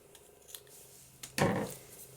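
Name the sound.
scissors cutting paper for envelope embellishment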